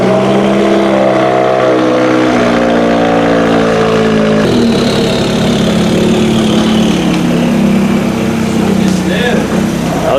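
A Subaru Forester XT just fitted with BC Racing coilovers idles and pulls away nearby, its steady engine drone shifting in pitch as it rolls out, with some voices and background noise over the car.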